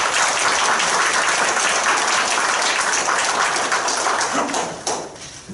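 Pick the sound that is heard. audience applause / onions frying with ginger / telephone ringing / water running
audience applause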